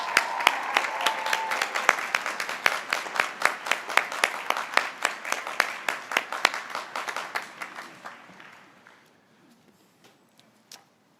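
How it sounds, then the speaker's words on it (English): Audience applause for three student speakers at a Bowdoin College commencement ceremony, distinct individual claps forming a steady rhythm that thins and fades out toward the end, leaving near silence. "hand of applause for our three student speakers"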